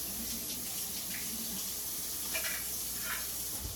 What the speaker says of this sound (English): I rinse my cans out